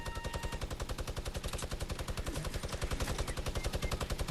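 Sustained rapid automatic gunfire in a shooter video game, a fast, evenly spaced stream of loud shots filling the whole stretch without a break.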